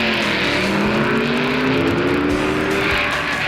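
Loud, continuous roar of 1960s junior stock drag racing cars, a 1962 Plymouth with automatic transmission and a four-speed Corvette, engines straining as they accelerate down the strip.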